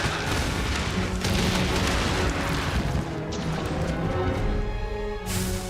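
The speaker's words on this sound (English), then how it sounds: "this Bishaten throws exploding pine cones." Exploding pine cones hurled by the monster Bishaten in Monster Hunter Rise, dense rumbling booms and crashes layered over game music, loud and continuous with a sharp burst near the end.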